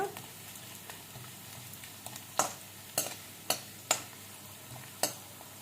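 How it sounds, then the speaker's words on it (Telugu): Ginger pieces fry in oil with a faint, steady sizzle, broken by several sharp crackles and pops as the pieces spit in the hot pan. "ఈ ఆయిల్లో ఈ అల్లం పక్కన పెట్టుకున్న అల్లం మొక్కల్ని వేసి చక్కగా ఫ్రై చేయాలి"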